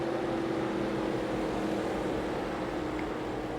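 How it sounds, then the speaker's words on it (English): Stock cars in the NASCAR Racing 2003 video game idle and rumble together in a steady, droning engine hum at a constant level, with no talking over it. "They're ready to get the engines fired and get rolling for this Busch Light Crash"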